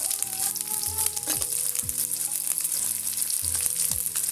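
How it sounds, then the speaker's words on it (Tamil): Garlic frying with onions in a pan for summer ragi kali, a steady close sizzle with repeated scraping stirs in a regular rhythm and no talk. "அதோட பூண்டையும் போட்டுக்கலாம்"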